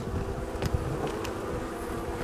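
Honeybees buzz steadily inside a hive during a spring inspection, a continuous dense hum with a few brief louder passes close to the microphone.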